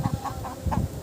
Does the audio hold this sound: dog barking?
no